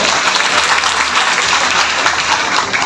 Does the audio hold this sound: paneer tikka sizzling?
no